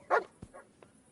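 A dog in the medieval game Kingdom Come: Deliverance II gives one short sharp bark followed by a couple of faint softer yips, all within about a second.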